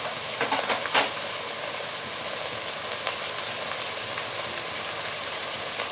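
Spring onion greens sauté in hot oil for a Khandeshi brinjal bharit, giving a steady, even sizzle and hiss with a few brief crackles near the start and nothing else over it.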